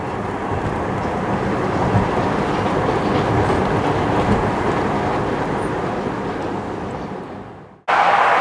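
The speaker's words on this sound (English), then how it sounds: "a long view of the train heading southbound in Utica Schuyler" A loud NYS&W freight train rumbles past close by on street-running track in Utica, New York, with a steady, heavy roar that slowly fades before cutting off abruptly.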